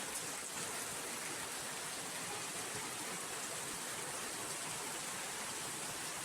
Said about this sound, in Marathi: आपण पण पाऊस बघू शकतो पाऊस काय थांबत नाही